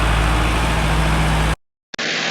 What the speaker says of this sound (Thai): รถติดเครื่อง